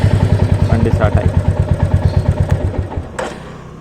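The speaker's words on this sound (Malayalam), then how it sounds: "ഇനി ഇത് നമ്മളിങ്ങനെ ലെഫ്റ്റിലേക്ക് തിരിച്ചാൽ വണ്ടി സ്റ്റാർട്ടായി." A Royal Enfield Meteor 350 motorcycle fires up and settles into a steady, evenly spaced single-cylinder thump. It is close and loud, and a voice speaks over the idling engine.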